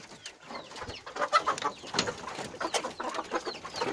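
Chickens and roosters in a coop give a busy, continuous stream of clucks and short calls, close and fairly loud throughout.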